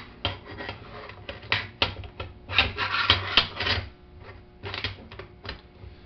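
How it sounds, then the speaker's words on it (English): Metal parts of an M1 Garand rifle scrape, rub and click together as the operating rod is put back in during reassembly, with a run of close, sharp rattling contacts and short pauses, no talk. "Flip it back over and put the operating rod back in."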